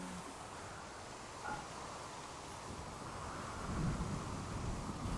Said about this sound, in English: Little patch of rain